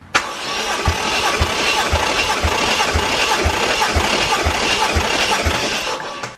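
A Toyota 1JZ VVTi engine cranks over on the starter during a cylinder compression test, with a steady, even chugging rhythm of about eight regular pulses, loud and close, with no talk.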